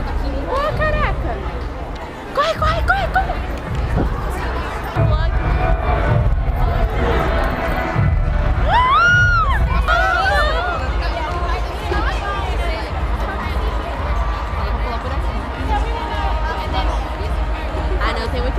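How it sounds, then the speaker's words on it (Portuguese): Screaming crowd at a concert in New Jersey, a dense, loud roar of shrieks and chatter heard from outside the venue, with nearby voices talking over it throughout. "Ó, tão gritando lá dentro já."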